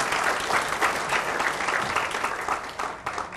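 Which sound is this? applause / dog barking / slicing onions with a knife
applause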